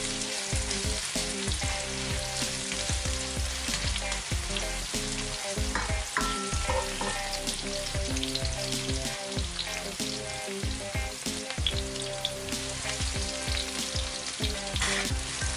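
Vegetables cook over heat in a pan, giving a continuous crackling sizzle with intermittent scraping and stirring knocks throughout.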